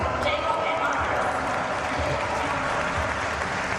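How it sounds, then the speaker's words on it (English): Spectators at the 2025 University Games applaud the athletes in a men's competition with sustained, dense clapping that fills the whole stretch, while voices carry underneath. "big applause for Jacob and Marcus"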